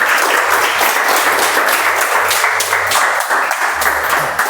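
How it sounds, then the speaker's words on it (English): A Toastmasters club meeting audience gives a sustained round of applause, dense steady clapping from many hands throughout, loud and close, with no speech over it. "So let's have a huge round of applause for Toastmaster Sanjana."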